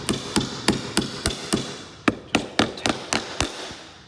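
A hammer taps fasteners into a sidelight window frame while glass is being replaced, giving about fifteen sharp, close taps in a steady rhythm with short gaps and no talking.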